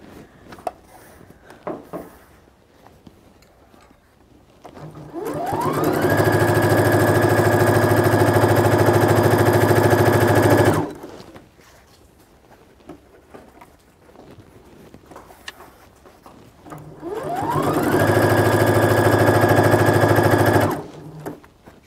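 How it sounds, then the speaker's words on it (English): A sewing machine hems fabric edges in two long, steady runs of rapid stitching that spin up and stop, close and loud, with quiet handling noise in the gaps. "I'm just hemming the edges."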